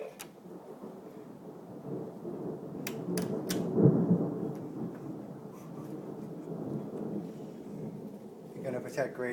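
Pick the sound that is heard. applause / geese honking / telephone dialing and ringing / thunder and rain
thunder and rain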